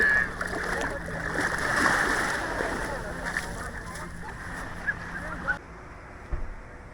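Splashing and sloshing in sea water at a summer beach in a Japanese village, a close, steady wash of water with a few sharper splashes near the end.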